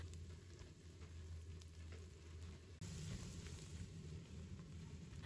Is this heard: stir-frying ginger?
yes